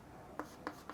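Chalk or marker writing on a board during a maths lesson, three short faint scratchy strokes spaced apart over quiet room tone, no talking.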